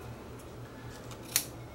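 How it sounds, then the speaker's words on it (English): A single quick scissor snip through sound-deadening material inside a camera, faint and isolated against a quiet room hum. "I'm just going to cut this"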